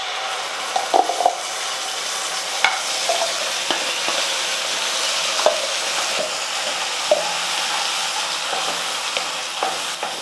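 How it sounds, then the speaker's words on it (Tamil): Ground garlic chutney paste fries in sesame oil over a tempering of mustard seeds, lentils and curry leaves, giving a continuous hissing sizzle with regular sharp clicks of a ladle stirring the pan, and no one talking. "ஒரு 2 நிமிஷத்துக்கு வந்து நல்லா இந்த எண்ணெயில் வந்து வதக்கிக்கலாம்."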